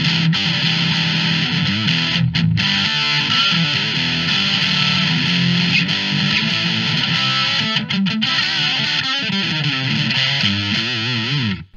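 An electric guitar plays through IK Multimedia AmpliTube X-Drive's DS1 distortion emulation, loud and continuous with sustained, buzzing overdriven notes and a few short gaps across the passage.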